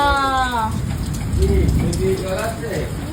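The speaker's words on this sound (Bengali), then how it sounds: "কত হারে বৃষ্টি পড়ছে" Steady, dense rain pours down throughout, a loud continuous hiss and patter, with a person's voice rising briefly over it at the start.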